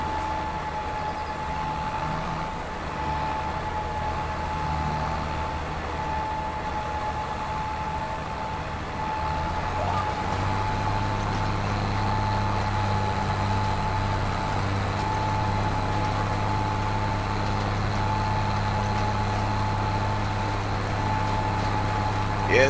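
A 275-horsepower tractor labors under a heavy load in a farming game, its engine a steady low drone with a persistent whine, deepening and growing slightly louder partway through.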